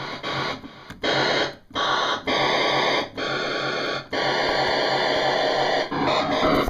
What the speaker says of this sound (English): that's got white noise going through move, whatever that is